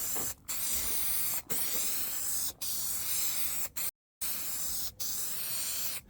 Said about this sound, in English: it's contact adhesive, so we need to spray both